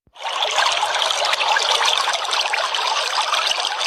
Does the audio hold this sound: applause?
no